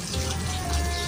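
Water runs steadily from a tap, filling for boiling, a continuous close splashing rush.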